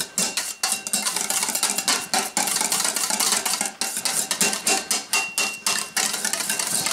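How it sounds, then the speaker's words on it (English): Rapid rhythmic clicking and tapping of a wire whisk beating whipped cream in a bowl, steady and close with brief pauses, no talk. "you just want to take the wire whisk to it."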